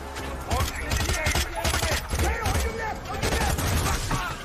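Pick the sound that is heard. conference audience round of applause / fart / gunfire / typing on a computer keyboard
gunfire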